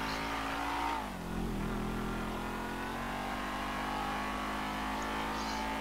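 A car engine in Grand Theft Auto V hums steadily as the car drives, dipping briefly as it turns around before settling into an even mid-pitched drone, with no voices.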